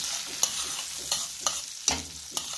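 Pepper stirred into a lobster seasoning mixture in a bowl, a string of soft scraping stirs and taps over a faint hissing background, close and steady.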